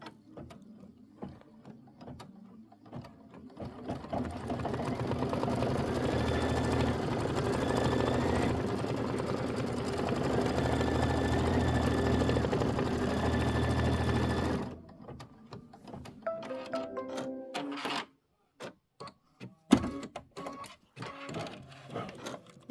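An embroidery machine sews a placement stitch for a chenille pineapple on a quilt, a steady close mechanical whirring and ticking that runs for about ten seconds, then stops and gives way to softer handling clicks and knocks.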